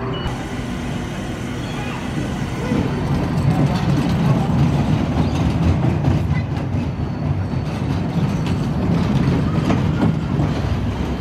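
The Little Nipper roller coaster's shark-themed train at Luna Park, Sydney rumbles and clatters along its track, a loud continuous roar with rhythmic clacking, building slightly after the first few seconds.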